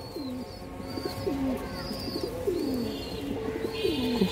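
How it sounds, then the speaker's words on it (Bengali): A khaki high-flying pigeon gives a string of low, rolling coos close by, repeated every second or so, with faint higher bird chirps in the background. "খুব সুন্দর একটা খাকি পেয়ার। এই যে দেখেন মাশাআল্লাহ, দর্শক যে নটটা দেখেন, খাকি নটটা মাশাআল্লাহ খুব সুন্দর একটা কবুতর।"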